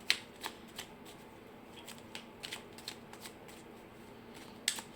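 Angel oracle cards being shuffled in the hands, a run of soft papery riffles and flicks with a few sharper snaps at the start and end, quiet and close with no talking.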